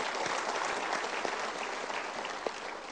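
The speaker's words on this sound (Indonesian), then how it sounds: "Kita berikan tepuk tangan dulu" An audience at a motivational seminar applauds, a steady, even wash of many hands clapping together at a moderate distance, continuing without a break.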